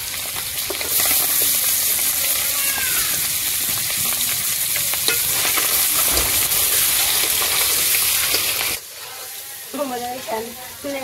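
Onions fry in a pan, a loud close sizzle with stirring for most of the time, then it drops away abruptly and a voice speaks over quieter background at the end.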